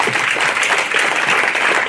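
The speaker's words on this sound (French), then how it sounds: "Et merci pour les applaudissements" Dense audience applause, many hands clapping steadily and loudly at close range for the whole moment, with no voices over it.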